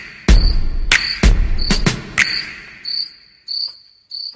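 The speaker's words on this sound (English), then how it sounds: "Crickets!" Crickets chirping in short sharp bursts, a series of clear, close chirps with brief gaps between them, alone without talk.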